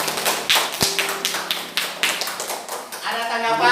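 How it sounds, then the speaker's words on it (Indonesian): A classroom group gets applause for their presentation, with a quick run of sharp claps and taps throughout, close and fairly loud, with a voice at the end. "Kasih tepuk tangan untuk kelompok 1."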